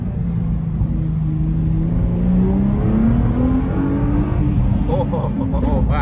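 A Nissan GT-R R35 engine revving up inside the cabin, a deep rumbling drone rising steadily in pitch, with exhaust crackle and a voice breaking in near the end.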